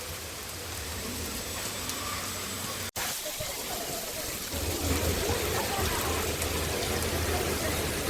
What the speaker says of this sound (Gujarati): અત્યારે અહીંયા ફૂલ વરસાદ છે